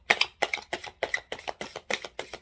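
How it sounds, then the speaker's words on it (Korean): Tarot cards are shuffled in quick, evenly spaced bursts, about eight crisp riffles in a row, close and clear, with no talking. "자, 그러면 타로 카드도 조금 뽑아보도록 할게요."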